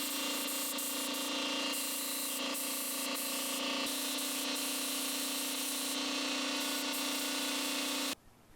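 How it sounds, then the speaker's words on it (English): A spray gun shoots primer onto the rear quarter panel of a Toyota Corolla, giving a loud, continuous close hiss with a few short flickers that runs for about eight seconds before stopping abruptly. "we're going to shoot some primer on this baby this morning"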